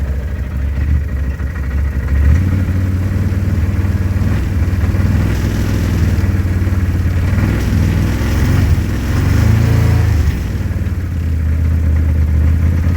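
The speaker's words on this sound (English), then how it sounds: "this one apparently has like some kind of motor noise" A side-by-side utility vehicle's motor runs with a continuous low, rumbling drone, heard from close by and steady throughout, with slight surges but no speech.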